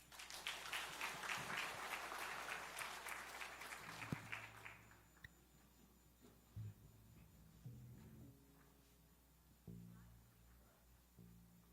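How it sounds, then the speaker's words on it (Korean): A church congregation at a retirement and ordination service claps in a burst of applause for several seconds, which then dies away into quieter room sounds and a few soft knocks. "우리 축복의 박수 하겠습니다."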